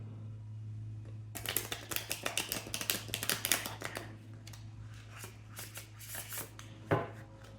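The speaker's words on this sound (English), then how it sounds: "I'm just going to shuffle like this in order to refresh the energy of the deck." A tarot card deck shuffled by hand in a quiet room, a rapid run of crisp riffling flutters and slaps in bursts for several seconds, close and clear over a low steady hum.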